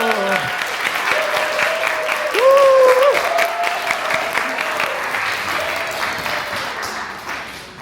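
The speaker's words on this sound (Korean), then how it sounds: "박수!" A church congregation breaks into loud, sustained applause at a Sunday service, with a voice calling out briefly over the clapping before it gradually fades away.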